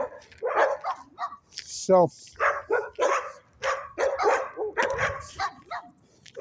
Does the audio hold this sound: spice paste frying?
no